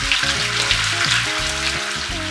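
Chopped onions fry in butter in a hot pan for a Georgian chicken dish, giving a steady close sizzle with a crackling hiss and no talk.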